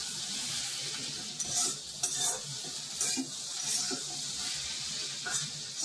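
Okra cooks in a pan for a steamed Marathi-style vegetable dish, giving a close sizzle with rhythmic scraping stirs throughout.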